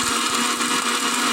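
A kitchen mixer grinder whirs steadily as it grinds chana dal into chutney for village-style pappu pongal, a loud, continuous high-pitched motor roar that cuts off abruptly at the end.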